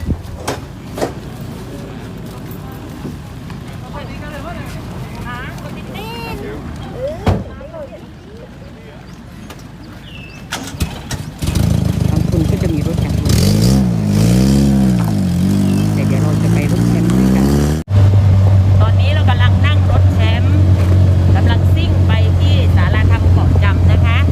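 A passenger boat on the crossing to Koh Jum, Krabi, Thailand, its engine rising to a loud steady drone that runs continuously after a quieter stretch with speech.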